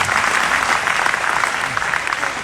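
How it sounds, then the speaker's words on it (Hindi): An event audience breaks into steady, even applause, a dense crowd of clapping hands filling the room for a couple of seconds with no voices over it. "तालियां बजती है बाय द वे इस एक्सरसाइज"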